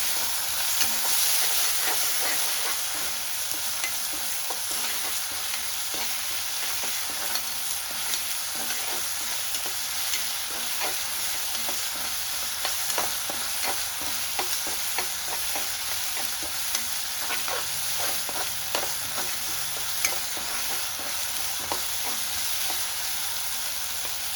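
Small tomato frying and sizzling in a pan for a morning egg semiya breakfast, with a steady hiss and scattered clicks of stirring throughout, close and continuous, no talk.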